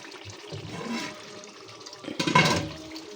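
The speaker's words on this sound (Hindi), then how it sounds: "चावल मैंने पानी निकाल लिया" Water is poured off cooked rice in a home kitchen, a gurgling splash that swells in two bursts, the second louder, with quieter watery trickling in between.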